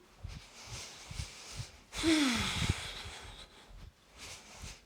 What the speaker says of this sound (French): On inspire, expire par le nez.